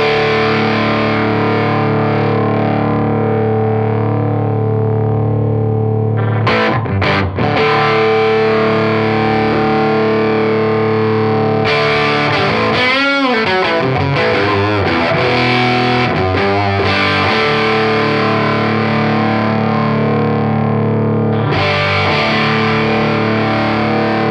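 Electric guitar heard through the Softube Amp Room amp-simulation plug-in with a brighter microphone setting, a loud sustained distorted chord ringing out with brief bursts of picked, modulated notes, close and continuous with no voices.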